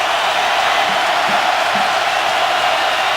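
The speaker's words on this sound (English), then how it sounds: "the crowd coming to life for the first time" A stadium crowd at a college football game roars in a broad, steady wall of cheering that holds loud and unbroken throughout.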